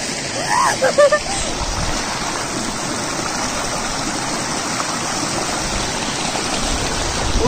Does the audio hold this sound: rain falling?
yes